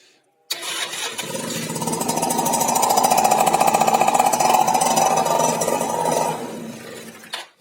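A Keeway Hurricane 50cc two-stroke scooter with a newly replaced cylinder and piston starts on its electric starter, then runs loud and close with a buzzy, rattling idle that rises and steadies for several seconds before cutting off abruptly.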